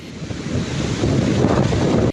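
Sea waves on the Bay of Bengal shore at Kuakata during a raised morning tide under cloudy skies, a continuous close surf roar mixed with wind buffeting the microphone.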